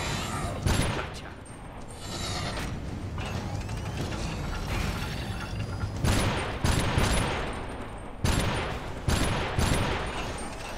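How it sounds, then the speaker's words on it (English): Mechanical clicks and clacks of a weapon reload in the mech game Iron Brigade, mixed with bursts of gunfire and sharp impacts over a steady battle din. "Oh, I reloaded too early."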